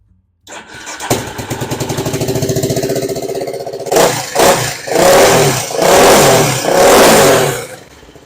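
A crosskart engine with its exhaust insert pulled out cranks over and then runs loud and near, revving hard in several surging bursts before dropping back, with no talk over it.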